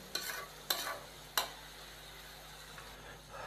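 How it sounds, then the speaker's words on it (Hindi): Vegetables for restaurant-style chicken fried rice get stirred in a hot pan, three sharp scrape-and-toss bursts early on over a faint steady sizzle, close by and fairly quiet, with no talking. "2 मिनट हम इसको फ्राई कर लेंगे"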